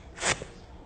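A brief breathy hiss from a voice, a short airy swoosh imitating a dash, followed by a faint soft tap, otherwise quiet.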